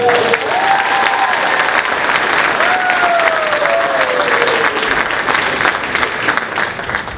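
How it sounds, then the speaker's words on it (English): A high school chorus concert audience applauds Melina with loud, dense, continuous clapping from a large crowd, and faint gliding tones drift through the applause. "Let's give a round of applause for Melina."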